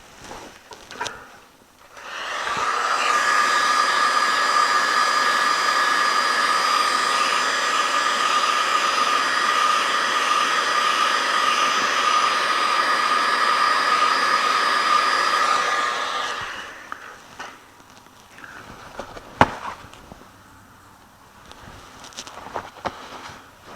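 A hot box heater for softening PVC conduit blows hot air in a steady loud whoosh for about fourteen seconds, then cuts off, leaving faint handling clicks and a sharp tap.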